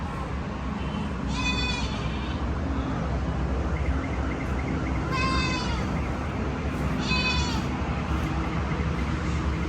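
Goats bleat at Parsi Dairy Farm, three distinct wavering calls spaced a few seconds apart, moderately close over a constant outdoor rumble and faint background voices.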